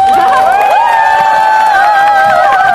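A large crowd at a Ssangyong Motor union talk event cheers and whoops loudly and continuously, with shrill whistling tones and shouts carrying over a steady roar.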